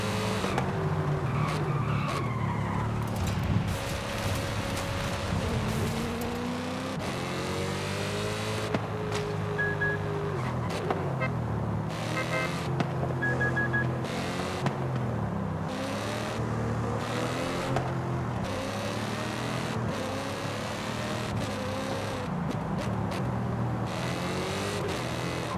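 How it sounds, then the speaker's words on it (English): Audi RS5 engine in the racing game Forza Horizon 5, revving hard and shifting through gears with rising and falling pitch, tire squeal and skidding mixed in, loud and continuous with no talk. "The RS5 definitely sounds better."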